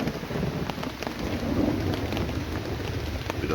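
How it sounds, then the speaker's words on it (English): Heavy rain pours steadily on an outdoor surface early in the morning, with a low thunder rumble rolling beneath the dense hiss of the downpour; no one speaks. "Bit of thunder."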